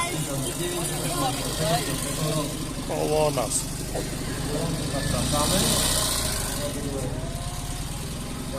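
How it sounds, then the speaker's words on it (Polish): A Fiat 126P idles at a vintage vehicle show, a steady low engine rumble running throughout beneath a loud announcer speaking over the crowd. "dla Fiata 126P i 126 bis z tamtego okresu troszkę inny dźwięk silnika ten samochód jest trochę cichszy"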